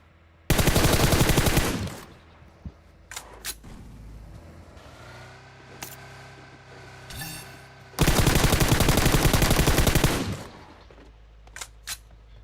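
Two long bursts of rapid automatic gunfire in PUBG Mobile, loud and close, separated by vehicle engine noise during a drive-by and a few scattered single shots.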